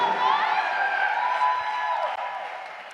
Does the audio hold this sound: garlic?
no